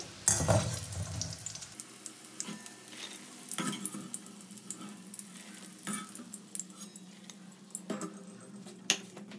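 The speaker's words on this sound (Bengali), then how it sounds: "সব পকোড়াগুলো আরেকবার আমি তেলে দিয়ে একটু গরম করে নিলাম, ডবল ফ্রাই করে দেখবেন পকোড়া জিনিসটা একটু বেশ ক্রিস্পি হয়" Fish roe pakoras sizzle and crackle steadily in hot oil during a second frying, with occasional metallic scrapes of a utensil against the pan and no talking.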